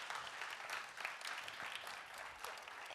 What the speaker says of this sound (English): another huge round of applause for our panelists